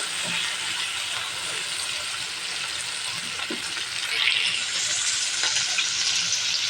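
Chicken frying in a pan with spice paste, cooked with papaya and potato, makes a loud continuous sizzle broken by scraping stirring strokes, with a brief louder hiss burst partway through.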